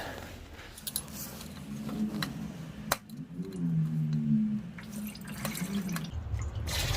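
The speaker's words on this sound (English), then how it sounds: "It might start gushing coolant down, so make sure you have a drain ready, so we'll drain into the bucket" Engine coolant drains from a Subaru 2.5L turbo engine into a bucket below, a steady dripping and splashing pour running continuously with small metallic clinks over it.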